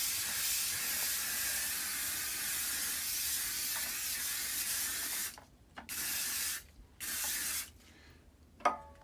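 Rejuvenator coating is sprayed onto a pair of Jordan sneakers in a long, continuous close hiss, then several shorter bursts with gaps between them, ending with a brief click.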